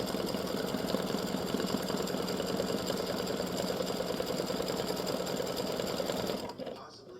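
An embroidery machine stitches a freestanding lace gnome at a rapid, even mechanical rhythm, loud and close, before winding down and stopping near the end; a voice speaks briefly over it.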